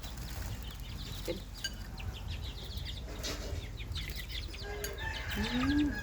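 Chickens cluck softly in the background over a steady outdoor hiss, with a rooster-like call rising near the end.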